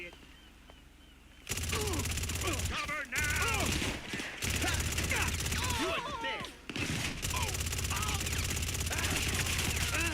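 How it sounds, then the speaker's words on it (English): A gun in GTA 5 Online empties a full magazine in a long, loud burst of rapid fire. A brief gap is followed by renewed bursts over game ambience, and the quiet opening gives way to the sudden barrage. "Mag dump."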